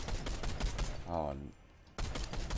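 Rapid gunfire from the Fortnite video game rattles in quick bursts, close and loud, with a short break in the middle where a voice briefly speaks.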